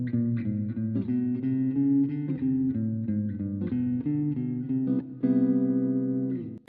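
Jazz walking bassline played on guitar, a steady run of plucked notes stepping evenly through a chord progression and ending on a held, ringing note, close and clear with no voices.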